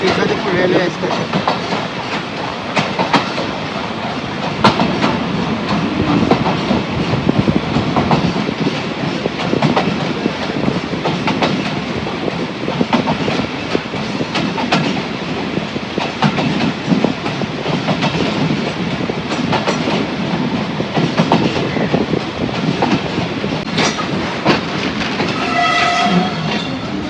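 Commuter train bound for Joydebpur running along the rails, a continuous loud rumble and clatter of wagons with wheel clicks, and a horn or whistle tone sounding near the end.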